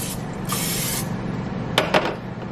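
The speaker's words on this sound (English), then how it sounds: "I'm going to go ahead and spray each one of these with olive oil" A close, short hissing burst of olive oil from a spray can onto food, about half a second long, followed by a couple of faint clicks and light handling noises.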